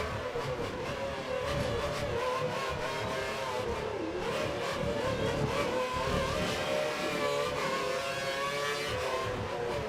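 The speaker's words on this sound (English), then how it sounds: "That's a big train of cars ahead" Formula 1 race car engines from the video game F1 2013 at the night-time Singapore Grand Prix, a steady loud high-pitched engine drone with shifting revs as a pack of cars runs close together.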